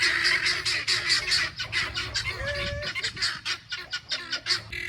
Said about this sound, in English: I left y'all out here with the chickens.